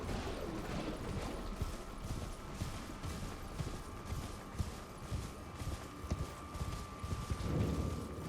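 A horse's hooves clip-clop steadily through the Elden Ring game world, a continuous rhythmic trotting at moderate loudness over a dense background ambience, with no voices.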